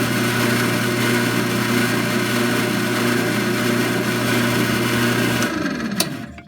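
Loud continuous whine of a center drill grinding into bare metal, steady for several seconds before winding down and stopping with a click.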